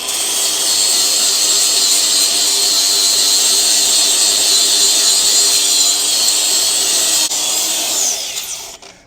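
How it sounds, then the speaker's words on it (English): A cordless grinder fitted with a flap wheel works over a metal mating surface on an 80-ton industrial chiller, one loud, close, continuous abrasive whine that holds steady for several seconds before winding down. "now I got me a flap wheel and a grinder. See what I can't do to clean up this mating surface."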